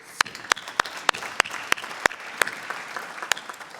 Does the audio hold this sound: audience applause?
yes